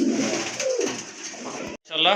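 A pair of pigeons, among them a large silver-tailed knot pigeon, coo in soft throaty waves up close, briefly drowned out by a loud burst near the end.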